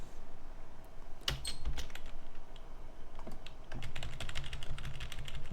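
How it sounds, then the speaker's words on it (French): Coffee can sampled and played as a shaker, giving quiet scattered shuffling rattles and ticks in uneven bursts, close and soft, with no voices. "j'ai samplé une boîte de café ce matin qui fait un shaker"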